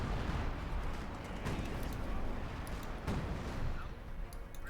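Artillery fire in Company of Heroes 2 during an OKW versus USF match: a dense, continuous rumble of distant booms and blasts rolling through the whole stretch, with a couple of sharper impacts standing out.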